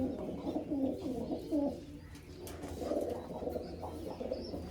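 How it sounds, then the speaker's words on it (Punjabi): Pigeons coo softly on an open perch where young birds sit: low, repeated throaty calls that are close by but fairly quiet. "ਕਬੂਤਰ ਆਪਣੇ ਵੱਡੇ ਕਬੂਤਰ"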